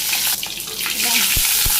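Onions frying in hot oil with a loud, steady crackling sizzle and a couple of soft knocks from a utensil against the pan near the end.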